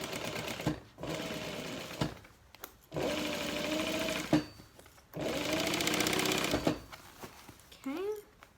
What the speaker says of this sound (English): Little back stitching, nice and sturdy there.